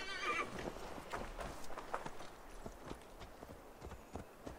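Horse hoofbeats clip-clop steadily as a mount is ridden in Assassin's Creed Valhalla, with a neigh or whinny near the start and a soft ambient bed beneath, moderately loud and close.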